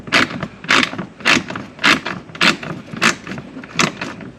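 Inner fender screws come out of a 2013 Camaro during bumper cover replacement, heard as a close series of about eight evenly spaced ratcheting clicks from a hand tool.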